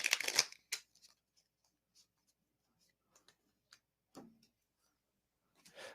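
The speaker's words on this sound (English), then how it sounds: "I got to shuffle these better." Tarot cards from a Cards Against Humanity deck being shuffled, a short burst of riffling at the start followed by sparse soft taps and card flicks in a quiet room.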